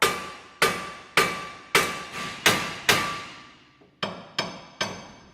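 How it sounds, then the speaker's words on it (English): Sharp metallic hammer blows strike a car's steering knuckle one after another at a steady pace during a ball joint replacement, each strike loud and close with a brief ringing decay. "some hammer action on the steering knuckle part"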